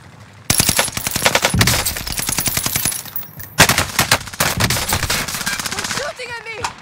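Automatic gunfire in the Caldera battle-royale video game rattles in long rapid bursts, loud and close, with a short pause in the middle and a voice speaking briefly near the end.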